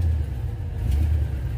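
A truck engine with an exhaust leak idles nearby, a steady low rumble that holds level throughout with no talk over it.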